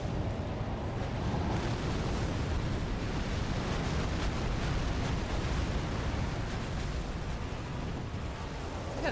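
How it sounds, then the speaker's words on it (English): A boss in the Elden Ring video game firing meteorites, a dense roaring rumble like eruptions and blasts that stays loud and steady throughout. "He's shooting his little meteorites."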